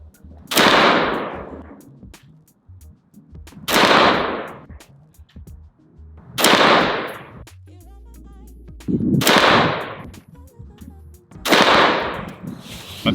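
Five AR-15 rifle shots firing Winchester ammunition during an accuracy test, each a sharp loud crack with a booming decay, spaced roughly two to three seconds apart at a steady pace.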